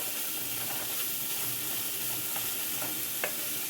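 Smoked sausage fries in a chili pot with a steady, close sizzle and hiss, broken by a few small pops and stirring sounds, with no talk.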